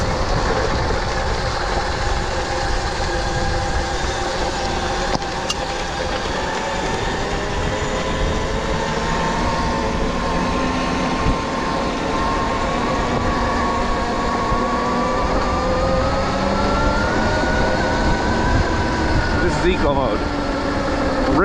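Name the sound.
electric bike ripping up a hill, accelerating hard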